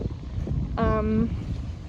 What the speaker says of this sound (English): My head's gonna blow away. It's so windy.